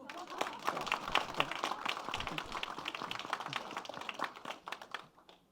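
Forum audience at an agricultural vision event gives a steady round of applause, dense clapping that runs for several seconds, fairly quiet and distant, then thins and fades out at the end.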